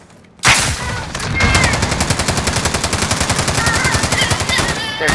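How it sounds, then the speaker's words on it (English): Rapid automatic gunfire in a video game comes as a dense, loud, steady stream of shots lasting several seconds, with an opening burst. "They're shooting at me."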